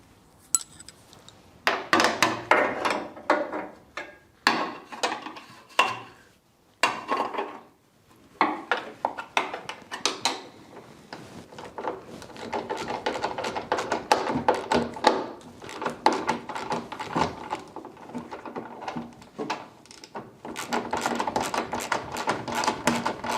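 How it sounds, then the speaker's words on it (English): Bolts being undone on the seat-box battery of a Land Rover 4x4 overland camper, heard as a string of sharp metallic ratchet clicks and taps, close and irregular, in bursts with short pauses. "I'll undo the bolts first, then I'll lift the battery out."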